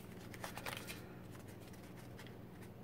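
Glued paper insert on a farmhouse journal envelope peeled up from near the fold, faint close crinkly tearing and rustling in short bursts, quieter toward the end.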